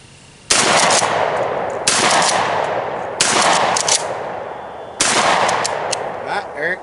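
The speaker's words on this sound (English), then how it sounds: "I'm gonna fire a few more" A gun fires four loud shots outdoors, roughly a second apart, each followed by a long echoing tail.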